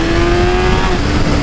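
A Honda CB1000 motorcycle engine hums steadily and loudly while riding, a sustained tonal drone with wind and road rumble over the whole short stretch.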